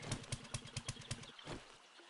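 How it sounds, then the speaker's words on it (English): Auger idling sound coming from wood frames in the video game 7 Days to Die: a rhythmic, mechanical engine-like putter of about seven evenly spaced pulses, moderately loud, fading out near the end. "Why are my wood frames making the auger idling sound?"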